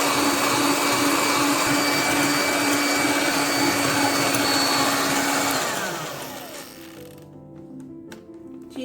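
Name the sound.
electric beater whipping egg whites with sugar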